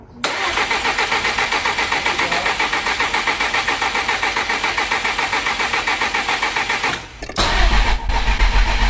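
Subaru WRX engine cranking over on its first startup after a rebuild, a loud steady rhythmic chug of the starter lasting about seven seconds, then a brief pause before the engine catches and runs rough and loud.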